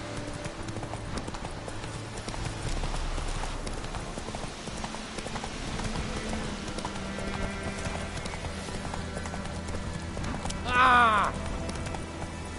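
Roach, a horse in The Witcher 3 on PS4, gallops with steady clip-clopping hooves throughout, joined by a brief whinny near the end, over game music and ambience with a short exclaimed voice.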